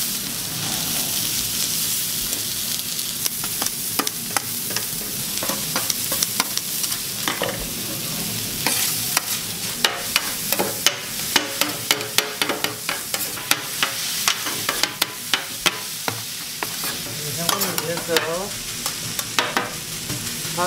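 Pork and minari (water parsley) stir-fried on a very hot grill, a steady loud sizzle and hiss with frequent sharp scraping clicks of utensils tossing the meat, continuous throughout with no talking.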